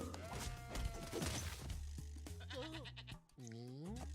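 Goat bleating in the video game Spyro: Ripto's Rage, a couple of wavering bleats near the end following crashing and thudding game sounds over background music.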